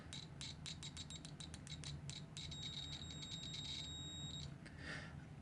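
Continuity tester on a TACKLIFE DM03B budget multimeter sounding in a quick run of short scratchy beeps, then one steadier tone lasting a couple of seconds, fairly faint over a low background hum.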